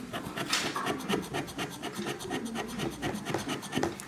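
Brown foam craft sheet is scraped into dust for a mini hamburger model, making a quick, rhythmic series of close, dry rasping strokes that repeat steadily throughout.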